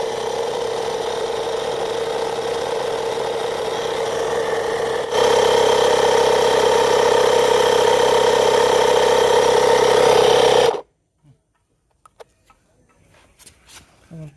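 A Maruti Suzuki NTI-30D digital tyre inflator drones close and steady as it pumps air into a tyre, its motor tone growing louder partway through before it abruptly shuts off, followed by a few faint clicks.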